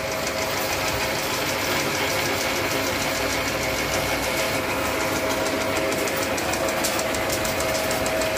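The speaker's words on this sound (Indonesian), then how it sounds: "Pengaduk kapur dan flokulan" Electric motor driving a lime and flocculant mixer in an industrial plant: a steady, loud mechanical hum and drone with a faint repetitive knocking, continuous throughout.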